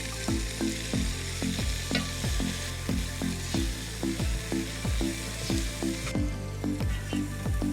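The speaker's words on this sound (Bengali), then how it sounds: "গাজর আর বরবটি একটু আমার ভাজা হয়ে গেছে" Carrots and chopped long beans sizzle in hot oil in a pan for mixed fried rice, a steady loud frying hiss with regular scraping strokes of a spatula stirring throughout, close up and without speech.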